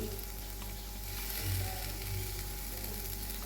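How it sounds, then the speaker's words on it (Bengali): A spoonful of ghee sizzles in a hot pan, a steady, close frying hiss that stays even for a few seconds. "আমি এখানে এক চামচ ঘি দিয়ে দিচ্ছি"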